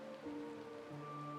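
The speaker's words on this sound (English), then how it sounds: "This is the sound of rain." Rain in a video game cutscene, a faint, steady patter of drops falling on surfaces, soft and continuous under low sustained musical tones, with no voices.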